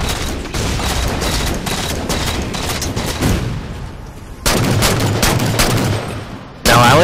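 Rapid bursts of gunfire from a Halo 4 Regicide match on the Adrift map, loud and close, repeating in dense volleys with short gaps and a heavier cluster near the end.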